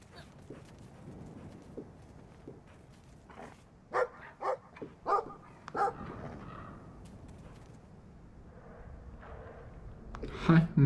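A dog in a video game chases the player and gives a cluster of loud, clipped barks in quick succession, then more barks at the end, with game noise and people talking between them.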